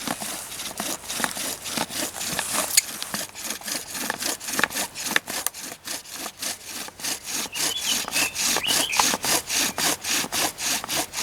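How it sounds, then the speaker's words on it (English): A beech bow drill spins a spindle in a burn hole for friction fire lighting, a rhythmic rasping back-and-forth rub with steady strokes about twice a second, close and alone. "So, now I'm going to put the spindle in the burn hole."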